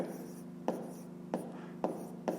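Pen strokes as numbers are written by hand on paper during a fifth-grade maths exercise, with four distinct scratchy taps spaced about half a second apart over a steady room hum, close and quiet.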